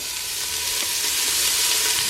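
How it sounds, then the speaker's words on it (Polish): Steady, close sizzling of onion frying in hot oil, a dense crackling hiss that fills the whole clip with no voices. "Zgrzany olej wysypujemy cebulę"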